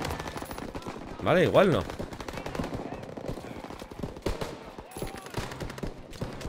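A turret machine gun on a half-track in Call of Duty: WWII fires a short, loud rattling burst, followed by scattered distant gunfire and battle noise while someone talks briefly.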